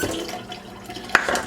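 Half a cup of water poured from a measuring cup over oats for overnight oats, a short soft liquid splash with a brief clink of the cup near the end, close and alone.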